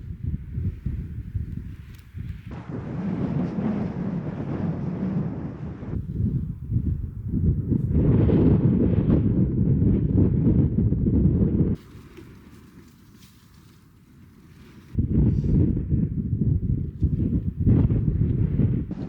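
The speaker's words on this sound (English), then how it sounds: "The wind's getting up" Strong wind gusts across exposed South Pennines moorland, roaring and buffeting the microphone in long loud surges, with a brief calmer lull partway through before the gusts return.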